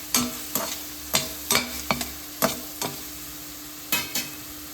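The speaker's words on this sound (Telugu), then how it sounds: "ఇప్పుడు దీంట్లోనే మనం ఫ్రెష్గా పెట్టుకున్న అల్లం వెల్లుల్లి పేస్ట్ కూడా వేసేసుకున్నామండి ఇదంతా కూడా బాగా ఫ్రై చేసేసుకుందాం" Ginger garlic paste frying in a pan as the base for a mutton pepper fry, with a steady low sizzle broken by a series of sharp stirring scrapes and clinks at irregular intervals, close by and with no talking.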